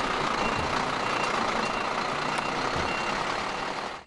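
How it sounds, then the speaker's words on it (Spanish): A water tanker truck arriving at night in a rural area of Malambo, Colombia, with a steady loud engine and road roar and high reversing beeps over it, ending abruptly. "Este sonido de carro tanque es melodía para los oídos de cientos de familias"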